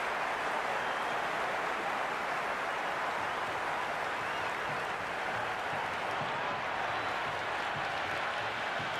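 A dense, steady roar of an excited stadium crowd fills a Cricket 26 IPL match between Mumbai and Hyderabad, continuous wash of cheering and clapping without breaks, loud and even throughout.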